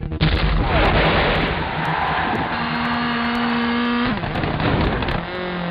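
Rally car engine snarling and revving in the Codemasters video game Colin McRae Rally, loud and continuous with a sustained high whine that shifts pitch as the car accelerates, over booming low rumble.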